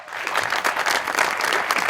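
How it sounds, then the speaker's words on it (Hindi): Studio audience applause on a Pakistani TV comedy show, a dense, even burst of clapping filling the whole moment without any voices. "तालियां।"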